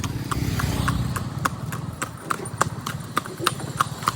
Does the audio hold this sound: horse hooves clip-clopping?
yes